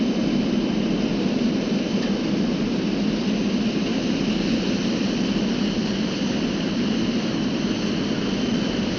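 A steady, loud aircraft engine drone holds constant throughout as the plane approaches a short runway to land, with no voices over it.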